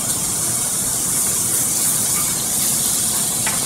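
Pork fat sears in a hot pan for adobo, giving a steady, close, unbroken hiss and crackle with no voices.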